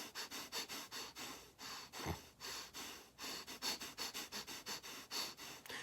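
A sick dog breathes heavily up close, a steady run of rapid sniffing pants with one deeper snort midway and no voices.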